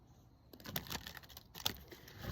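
A tarot card deck is cut and handled up close, giving quiet papery crinkles, riffles and soft snaps in short irregular bursts.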